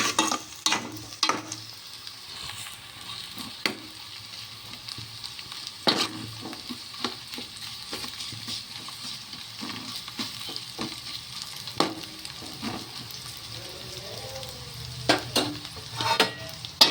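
Onions and ginger sizzle quietly in a pan over a long stretch, with scattered sharp clicks and scrapes of a spoon against the pan and no talking.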